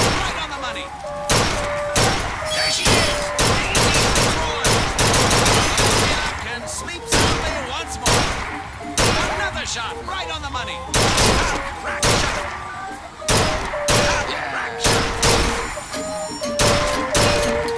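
Rapid shots ring out at a shooting gallery in Bioshock Infinite, sharp reports repeating in quick irregular bursts against carnival music and a barker's voice talking throughout.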